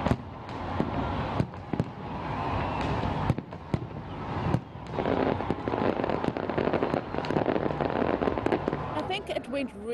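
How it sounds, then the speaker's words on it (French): New Year 2016 fireworks pop and crackle in rapid bursts, with a crowd murmuring and cheering throughout. "un majestueux spectacle de feux d'artifice a été organisé pour marquer le passage à la nouvelle année 2016"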